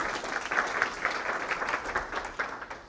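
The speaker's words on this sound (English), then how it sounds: "Give her another round of applause." A classroom group gives a round of applause for a student: brisk, steady clapping from a small crowd, fairly close, filling about three seconds on its own.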